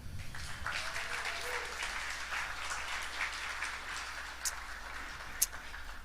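At Helium House 2022 in New York, a conference audience claps for Helium Mobile in sustained, moderately distant applause, with a few sharper isolated claps standing out near the end.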